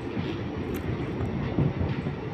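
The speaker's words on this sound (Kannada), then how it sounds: "ನಮ್ಮ ಟ್ರೈನ್ ಈಗ ಹಾವೇರಿ ರೈಲ್ವೆ ಸ್ಟೇಷನ್ಗೆ ಬರ್ತಿದೆ" Passenger train heard from on board as it approaches Haveri railway station, a steady moderate rumble of wheels and carriages with faint rhythmic clatter.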